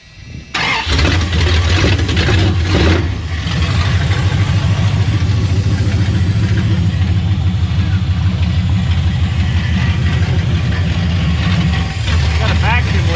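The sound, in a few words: 1973 Dodge Charger engine running with a vacuum leak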